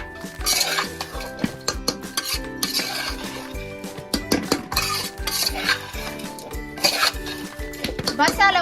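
A spoon stirs tomato dal in a metal pot, scraping and clinking against the sides in repeated close strokes, while people talk over it.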